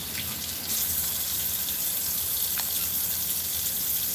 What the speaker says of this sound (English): now I'm just going to wash my potatoes off, rinse them off really good